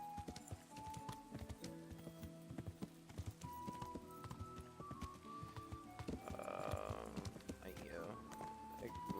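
Steady clip-clop of horse hooves plods along with occasional whinnies, under game music and ambient effects, in the video game Kingdom Come: Deliverance.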